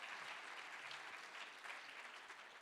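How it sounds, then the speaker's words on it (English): Applause from a town hall audience with Senator John Curtis, a steady, even patter of many hands, fairly faint and distant, lasting a few seconds without talk. "that's worth a round of applause"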